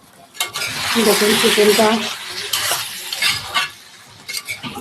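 Chicken curry being stirred slowly in a cooking pot, with a steady scraping and sizzling texture running through most of the moment and a voice speaking over it.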